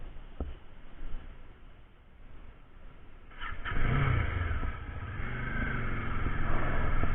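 A Dominar 400 motorcycle engine starts with a sudden catch midway, then settles into a loud, close, steady running note with slight revving, following a quieter stretch of background noise.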